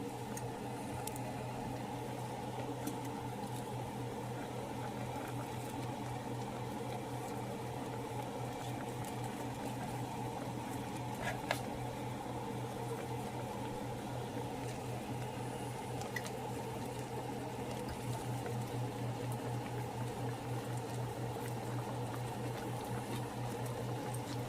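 Pork chops sizzling in a hot pan for smothered pork chops, a steady low bubbling and frying hiss that runs evenly throughout with a constant hum beneath, no talking.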